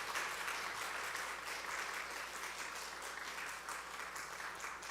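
Applause during a church service, a steady crowd of hands clapping throughout, fairly distant and even in level, with no speech over it.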